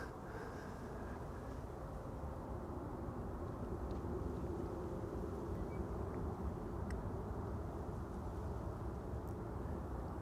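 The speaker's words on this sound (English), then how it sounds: "This is Delta Airlines Flight 163 going to Minneapolis, Minnesota" A Delta Airlines jet departing Amsterdam Schiphol Airport, bound for Minneapolis, gives a steady, distant roar that holds even for the whole stretch, with no talk over it.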